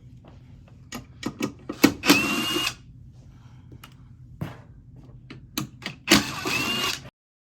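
A power driver with a T20 bit spins in short bursts, backing screws out of a GE oven door, with two longer whirring runs among brief clicks and knocks, close by.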